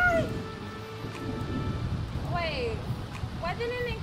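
Rain and thunder in The Sims: a steady wash of rainfall with low rumbling, joined by bursts of speech and gliding vocal sounds over the storm bed.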